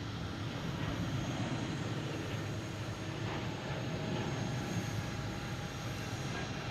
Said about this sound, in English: JetBlue behind there, heading to Philly, a Philly special. Flight 859.